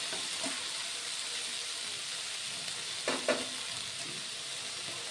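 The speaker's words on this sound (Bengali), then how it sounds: "কড়াইতে দেওয়ার সাথে সাথেই কিন্তু প্রায় শাক সেদ্ধ হয়ে যায়" Fenugreek greens sizzle in a wok in a steady, quiet hiss, with a couple of brief clatters of stirring.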